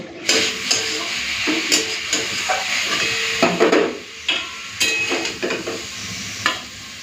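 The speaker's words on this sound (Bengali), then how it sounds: "এদিকে বসিয়ে দিয়েছি ভাত ভাতটাও ভালো মতো ফুটতে শুরু করে দিয়েছে" Rice boils in a pot on the stove, steady bubbling and hissing under repeated sharp knocks and scrapes of utensils against cookware.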